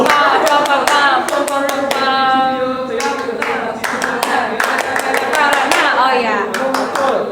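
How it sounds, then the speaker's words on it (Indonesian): Rhythmic Pramuka scout clap pattern, the tepuk jawab, with bursts of sharp hand claps in quick sequences and short pauses, performed loud and close while voices sing or chant along throughout. "Nah ini tepuk jawab loh."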